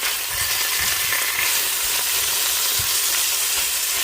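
Beef, started from frozen, sautés in olive oil in a pan, giving off a loud, continuous sizzle and hiss with occasional soft stirring bumps throughout.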